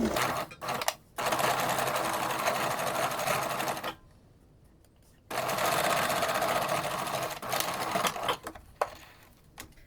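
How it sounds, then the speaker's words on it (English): A sewing machine stitches fabric face mask pieces in rapid, buzzing runs, stopping for a pause of about a second midway before resuming, then ending in short, choppy bursts. "So now we're going to sew pattern B together."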